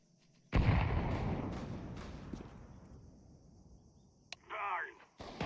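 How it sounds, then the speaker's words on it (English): A grenade detonates in a shooter video game with a sudden loud blast that trails off into a long rumbling decay, followed by a sharp crack and a short voice. "Grenade."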